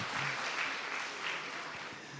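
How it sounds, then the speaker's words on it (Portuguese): Faint audience applause at an evening plenary session of a church congress, a short steady patter of clapping heard from a distance in a large hall. "Palmas para eles aí com a gente."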